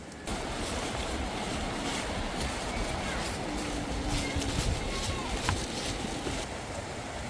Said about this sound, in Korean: 여기 물소리가 좋지?